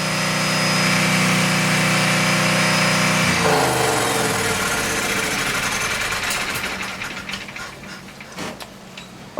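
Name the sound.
boat generator running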